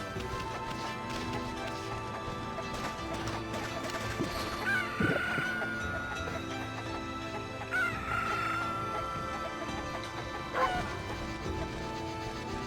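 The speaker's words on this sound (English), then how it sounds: "Hey there, chickens." Chickens in the video game Okami HD, a few game clucks and honk-like fowl calls over a continuous music track, with no voices.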